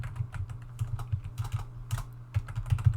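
Computer keyboard keys clatter in quick irregular bursts, close and fairly soft, with brief pauses between runs of keystrokes.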